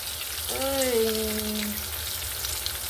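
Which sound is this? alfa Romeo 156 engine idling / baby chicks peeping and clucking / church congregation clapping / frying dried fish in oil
frying dried fish in oil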